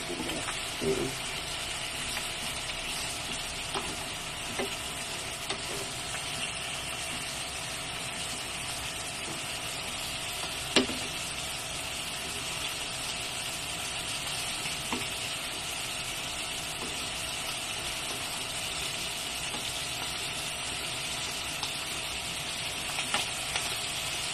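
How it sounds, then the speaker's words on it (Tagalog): Beefsteak fries in its own oil, giving a steady close hiss and crackle that runs on without a break, with a few faint clicks and pops on top. "ipapry lang natin siya sa kanyang sariling oil"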